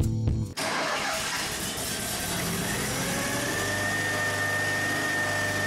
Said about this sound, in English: Most people begin by turning the engine on.